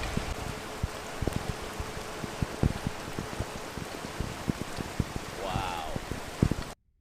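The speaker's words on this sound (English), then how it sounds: "It's a rainy day in Jacksonville, bro." Steady rain falls outdoors in Jacksonville during a police arrest, a continuous broadband hiss with scattered sharp drop-like clicks; a brief chirp near the end, then the sound cuts off abruptly.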